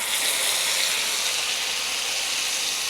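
Burger patties sizzle in hot oil, a steady bright hiss of frying with no breaks, close and fairly loud throughout.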